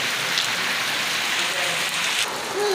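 Rain falls steadily onto surfaces outdoors, a dense, even hiss of drops that stays loud and close throughout, with no talking.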